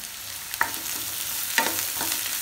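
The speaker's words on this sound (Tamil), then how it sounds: "இதை சேர்த்து நல்லா வதக்கி விட்டுக்கலாம்." A steady sizzle of capsicum sautéing in a pan, with two or three sharp scraping clicks of a spatula stirring them.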